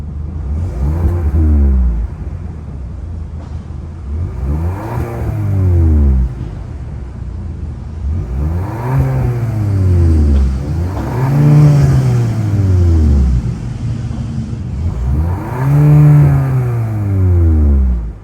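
A 1.6-liter turbo four-cylinder in a 2024 Kia K5 revs repeatedly from idle, about five steady throttle blips that climb and fall in pitch, close and moderately loud, with no talking.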